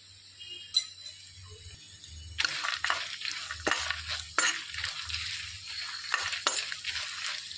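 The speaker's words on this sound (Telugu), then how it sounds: "ఒక స్పూనుడు ధనియాలు ఒక స్పూనుడు మినప్పప్పు ఒక స్పూనుడు పల్లీలు వేసి వేయించేసుకోవాలి" Coriander seeds, urad dal and peanuts dry-roast in a pan, giving a soft crackle with scattered scraping stirs and light rattles of the seeds. The sound is quiet and close, with no talk.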